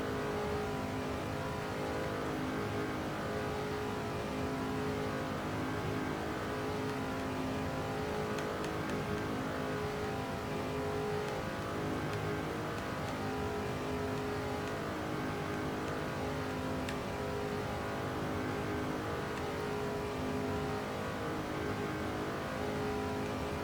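Stock car engine in the NASCAR 2005 video game at Talladega, a steady loud sustained drone at racing speed, with faint surrounding cars, no talk.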